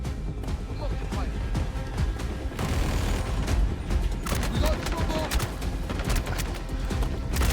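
Rapid bursts of gunfire during the Siege of Orison battle in the game Star Citizen, dense and loud, with shots and booms layered over one another throughout.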